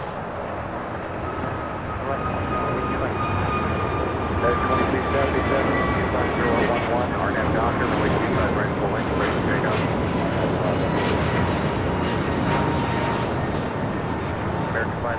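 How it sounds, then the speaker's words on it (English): American Airlines A321neo jet taking off at LAX, a loud, sustained broadband engine roar with whining tones, heard from the airfield under ongoing talk. "This is American 513 taking off to Philadelphia on an A321neo."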